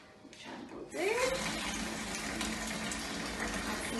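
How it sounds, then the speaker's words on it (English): Tap water filling a kitchen sink for a foam bubbles activity, starting quiet, then a loud, steady gushing stream with a brief rising squeak from the faucet as it opens fully. "So you fill your sink up, which I will do."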